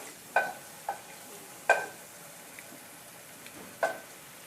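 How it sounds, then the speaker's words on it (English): Battered fish fries in oil, crackling and popping softly in an otherwise quiet pan, with sparse sharp spits every second or so. "the batter is frying pretty nicely there"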